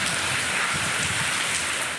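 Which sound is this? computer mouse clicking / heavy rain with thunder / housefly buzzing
heavy rain with thunder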